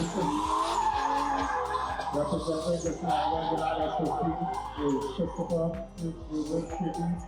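A drift car skids wide around a corner at a drift competition in Trinidad, with continuous tire squeal and engine roar, loud and sustained, while a person talks over it.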